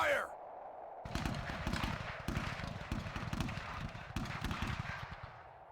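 Musket volleys ring out in The Glorious Cause video game, a dense run of overlapping gunshots crackling steadily from about one second onward, with louder bursts at intervals and a voice calling out briefly at the start.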